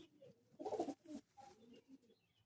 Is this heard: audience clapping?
no